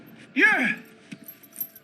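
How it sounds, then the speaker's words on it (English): Keys jangle once in a short metallic burst in the video game Alan Wake, followed by faint scattered clicks. "Your keys!"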